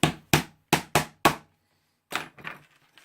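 Small nails are hammered to tack two wooden boards together: five sharp, evenly spaced blows ring out up close, followed after a pause by a few softer knocks and handling sounds.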